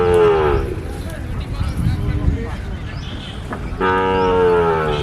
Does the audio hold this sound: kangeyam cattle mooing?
yes